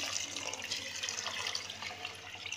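Water poured into a pan of potato green pulao during cooking, a steady close splashing pour running throughout with no talk.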